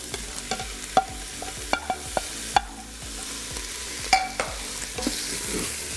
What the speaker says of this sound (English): once your steak's done, we're just gonna add the mushrooms and onions just right back in.